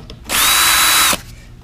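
A power drill whines in one loud, steady burst of just under a second, backing out 5/16 inch screws on a Briggs and Stratton 498170 carburetor on a mower, with no talk.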